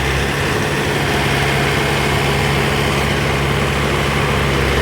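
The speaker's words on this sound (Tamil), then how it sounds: "டிராக்டர்லேயே மிஷின் ஜாயின் பண்ணியிருக்கிறோம்." A tractor engine powering a wood-cutting machine drones steadily at a constant pitch with a dense, rattling mechanical hum, loud and unbroken throughout.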